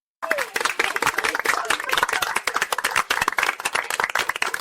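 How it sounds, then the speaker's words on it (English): Quick, sharp clapping from several people, fast and continuous after a brief silent start, fairly loud and close. "clap their hands really fast to send them some sparkle power"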